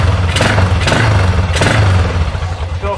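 A motorcycle engine gets a quick throttle blip, the revs rising in short surges over a rough, loud running note close by, with clattering mechanical noise throughout.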